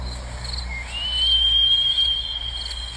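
A grasshopper mouse's thin, high-pitched whistling howl rises and holds steadily for about two seconds over a faint hiss of insects.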